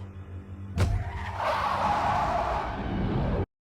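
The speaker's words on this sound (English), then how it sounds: "Watch how the car leans as he pulls away" A car pulls away with a sudden burst of engine and tire noise, a short squealing surge that holds loud and close for a couple of seconds before cutting off abruptly.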